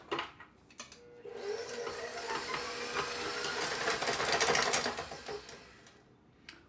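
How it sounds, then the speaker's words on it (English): An electric mixer whips softened cream cheese for frosting, a steady whirring motor hum that swells and grows louder midway, with a few clicks of the beaters at the start and end. "So I'm going to start by whipping up my cream cheese."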